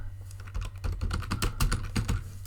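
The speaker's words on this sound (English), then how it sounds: "So I'm just going to type in upper left" Quick keystrokes tap on a computer keyboard in an irregular, rapid run of clicks, close and clear over a low steady hum.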